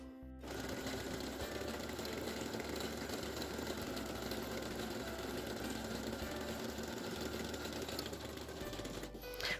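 A domestic sewing machine on its automatic stitch settings runs steadily, stitching fabric for a homemade shower cap in a fast, even mechanical whir that continues for about nine seconds before stopping.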